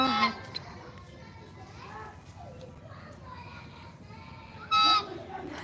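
A group of ten ducks, including Chinese ducks, give a few honking calls in a farmyard, mostly buried under children's voices and chatter, with one louder burst of calls near the end.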